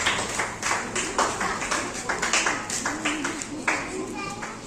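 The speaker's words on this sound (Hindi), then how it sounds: "शिवम सर के लिए तालियां बजा के रखो।" An audience at a school Teachers' Day celebration claps for a teacher, a steady rhythmic run of close, fairly loud claps with voices mixed in.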